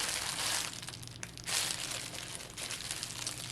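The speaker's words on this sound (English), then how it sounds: "I'm sorry about the crinkling." Plastic packaging from a thrift-store haul crinkles and crackles close up, several bursts of rustling handling with short pauses between them, fairly quiet with no talking.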